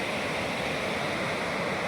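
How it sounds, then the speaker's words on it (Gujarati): Floodwater rushes through a river after a night of heavy flow, a steady, loud, broadband roar of churning water with no pauses and no voices. "આજે તો આટલું પાણી હાલ્યું જાય છે"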